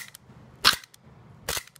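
Two sharp, snappy clacks about a second apart as a P99 gas blowback pistol is dry fired, each a crisp mechanical snap heard close with quiet between.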